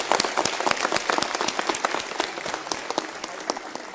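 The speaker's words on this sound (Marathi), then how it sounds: "सगळ्या पुरुषांनी आमच्या महिला भगिनींच्या स्वाभिमानासाठी जोरदार टाळ्या वाजवल्या पाहिजेत" Audience applause at a women's rally in Maharashtra, a steady burst of many hands clapping together, close and fairly loud, sustained throughout with no speech over it.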